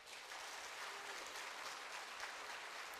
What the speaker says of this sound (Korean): 우리 큰 박수로 우리 환영할까요?